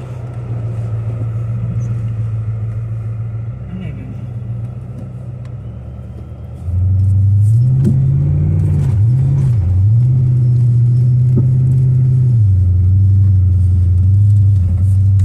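A car on summer tires climbs a snowy hill, its engine rumbling steadily and then revving higher and louder midway, the pitch rising and wavering as it pushes up the slope, with no talk.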